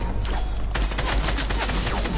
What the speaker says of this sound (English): I just hit you with a boom sniper.